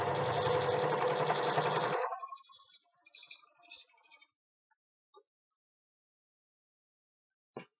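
An overlocker sewing machine stitches fabric scraps in a loud, steady whir for about two seconds, then stops, followed by a few faint clicks and handling noises in near silence.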